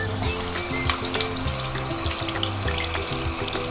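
Hands being rinsed under a running tap after a homemade gritty hand scrub, with a steady close stream of water splashing continuously throughout.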